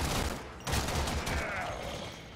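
Rapid bursts of gunfire from the shooter game Warframe, a dense crackling volley near the start followed by a second heavy burst, then a trailing mechanical rattle over a constant rumbling game backdrop.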